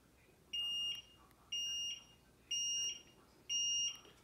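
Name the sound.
beeping plastic Easter egg toy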